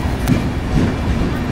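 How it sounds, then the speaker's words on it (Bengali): A passenger express train runs at high speed through heavy rain, with a steady loud rumble and faint rhythmic clatter heard from inside a carriage. "ট্রেন প্রচুর স্পিডে যাচ্ছে আর বাইরে বিশাল বৃষ্টি হচ্ছে"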